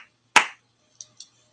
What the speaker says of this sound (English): so I'm just gonna clap